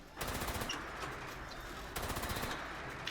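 Automatic weapon fire in Fallout 76 comes in two rapid bursts of sharp, evenly spaced shots, fairly close, with no voices.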